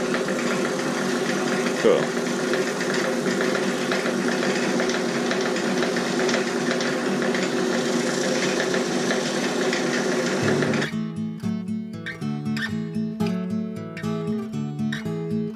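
Woodturning lathe spinning an oak bowl up to speed, a steady, dense mechanical drone with a constant hum held for about ten seconds, then the texture changes to a lighter, more tonal sound with brief speech.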